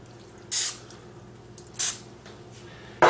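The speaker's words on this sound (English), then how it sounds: "I'm going to give it a good spray with some canola oil, just your regular cooking spray" Three short hisses of canola oil cooking spray onto a tortilla, each lasting about a quarter second, evenly spaced and close, against a quiet room hum.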